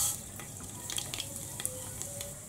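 Mustard seeds splutter in hot oil in a pressure cooker: faint, scattered crackles and pops over a low, steady sizzle.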